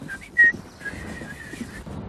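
A person whistles a short tune imitating a milkman, a few clear bright tones with a sharper rising note early on, over a low background hum.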